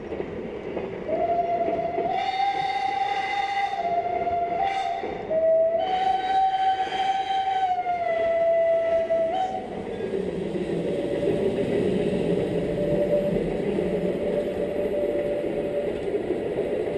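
A Furka cogwheel steam train pulls out of Realp station with a long, wavering whistle blast lasting several seconds. A steady, rumbling roll of the moving train follows.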